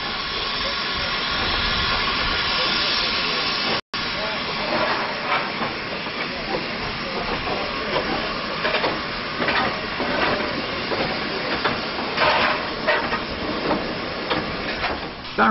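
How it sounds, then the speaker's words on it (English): Period demonstration freight train hauled by a Johnson 1F tank steam locomotive at a depot, heard as a steady broadband hiss of steam with faint rhythmic chuffs and rail clatter throughout, a brief dropout early on. "there is enough space to run short demonstration freight trains, like this period example behind the resident Johnson 1F tank"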